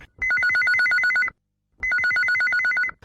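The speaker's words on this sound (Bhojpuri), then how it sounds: "सुनथन हमर कौन श्रोता के पहली फोन कॉल लगे है" A telephone rings in two electronic warbling bursts separated by a short pause, clear and fairly close, with no talking.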